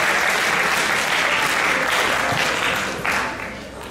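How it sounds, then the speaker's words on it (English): Audience applause at an FTC robotics regional qualifier awards ceremony for the Inspire Award runner-up team: dense, steady clapping filling the room, thinning out toward the end. "one more big round of applause for your Inspire Award runner-up, 7390"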